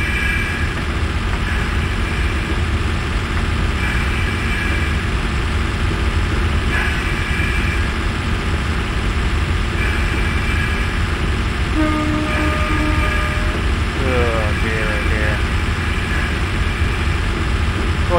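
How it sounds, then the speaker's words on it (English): A Class 105 diesel multiple unit in the OpenRails train simulator rumbles steadily with a constant hissing brake-release sound, joined by brief tonal whines and horn-like notes partway through, no voices present. "it's one of these trains that have the constant back brake release sound going on"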